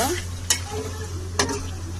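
Meat and pulao leaves stirred in a frying pan, a steady soft sizzle with two sharp scraping strokes of the spoon against the pan, close and alone without talk.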